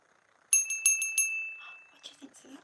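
A small bell, like a bicycle bell, is rung in a quick burst of four or five bright, close dings that ring on briefly. Quieter soft sounds and a faint voice follow.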